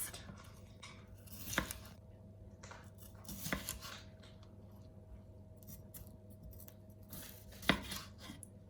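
A knife slices peppers lengthways on a chopping board, giving a few sparse, quiet cuts and sharp taps against the board in an otherwise hushed kitchen.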